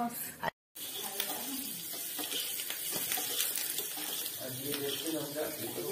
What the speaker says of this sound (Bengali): বাটারের মধ্যে রসুন গলানো হচ্ছে।